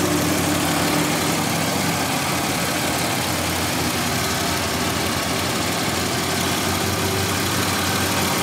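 A 2000 Buick Century engine idles steadily and loudly up close, a continuous low rumble with a constant hum and no change in pace.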